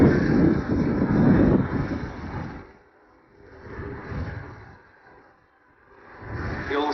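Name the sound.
Bölkow Bo 105 helicopter in air display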